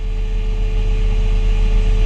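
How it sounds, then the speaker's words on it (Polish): A Fendt 726 Gen 7.1 tractor engine held at 1800 rpm, a loud, even, continuous drone with a steady tonal hum and no talk over it. "Zwiększymy sobie teraz obroty na 1800"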